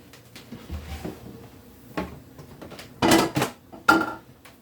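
A few hard clunks and clacks of a glass blender jar and plastic parts being set and pressed together, with short pauses between, close by in a quiet room.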